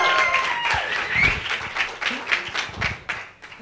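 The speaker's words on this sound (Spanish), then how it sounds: "pongan un fuerte aplauso" Applause from an audience at a science communication body-expression workshop in Spain, a ragged burst of clapping that swells and thins in waves over a few seconds, with some voices mixed in.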